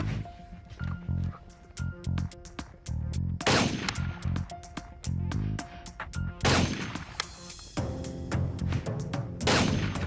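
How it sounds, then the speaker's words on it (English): A PS90 rifle firing 5.7 rounds at a target on a range lets off a few loud, sharp cracks spaced a few seconds apart, separated by quieter background noise. "PS90 feels a little bit strange to me, but overall, man, it's a really fun weapon to shoot."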